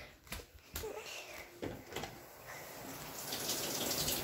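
Shower water runs in a video game as a continuous hiss of spray that swells toward the end, broken by a few sharp knocks and thumps. Faint voices sit underneath.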